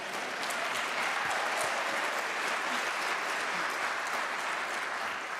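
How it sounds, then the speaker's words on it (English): Lecture audience breaking into sustained applause that holds steady throughout, a dense wash of clapping from a large crowd with no speech over it. "I always get applause when I say that"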